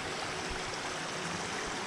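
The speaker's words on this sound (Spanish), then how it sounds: "de ahí es donde sale el agua, se baja todo de la montaña de arriba." Spring water coming down from the mountain at Santa Úrsula, Hidalgo, rushes and splashes in a steady, full, close-up flow with no breaks.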